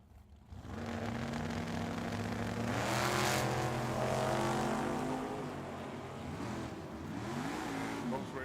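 Two drag racers, a 1977 Corvette and a 1963 car, roar down the strip at Tucson Dragway, a loud, sustained engine drone with rising and shifting pitch as they accelerate past.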